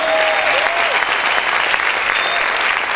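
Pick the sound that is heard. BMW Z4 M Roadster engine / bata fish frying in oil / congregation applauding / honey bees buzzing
congregation applauding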